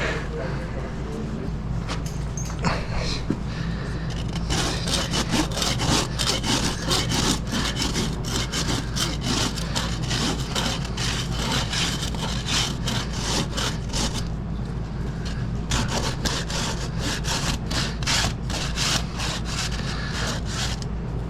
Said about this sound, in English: So obviously you see me rasping.